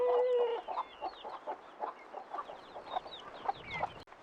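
Several chickens cluck in soft, uneven bursts near a farm coop, with a brief crow-like call at the start, faint and spread out against a quiet outdoor background.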